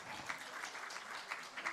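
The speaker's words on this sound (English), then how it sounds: "I would like to ask everyone to give a round applause for these guys" A crowd at the ICTP 2026 event claps for the drone design team, a brief, fairly faint patter of applause with a few sharper claps standing out.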